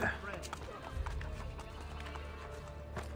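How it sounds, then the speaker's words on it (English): Rhythmic hoofbeats clop along steadily at a gallop in Assassin's Creed: Brotherhood, with a horse's whinny near the start and voices talking over the running. "I wanted to get the horse."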